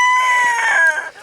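A rooster named Big Hoss crows once outdoors in a loud, close cock-a-doodle-doo lasting about a second, with no talk over it.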